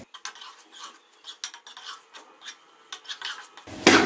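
Spoon scraping and clattering in a pan while stir-frying aloo matar gajar sabzi in ghee, an irregular run of quick metallic scrapes and taps, close and fairly loud, ending in a brighter burst of clatter.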